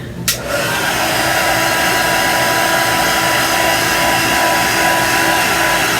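A hair dryer blows steadily on fresh paint on a vintage truck, a loud continuous whooshing hum that runs unbroken from just after the start to the end.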